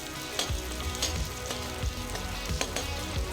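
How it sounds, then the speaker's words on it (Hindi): Chopped onion hitting hot oil with frying ginger, green chilli and garlic, a steady close sizzle broken by a few sharp stirring scrapes, no voices. "अदरक, हरी मिर्च, लहसुन हल्का सा भुन जाने के बाद डालेंगे चॉप की हुई प्याज"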